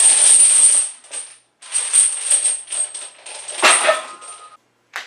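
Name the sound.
weightlifting chains clanking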